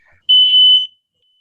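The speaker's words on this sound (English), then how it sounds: "You've got some beeping going on over there." A single sharp electronic beep, high-pitched and steady like a smoke alarm chirp, lasting just over half a second before cutting off into silence.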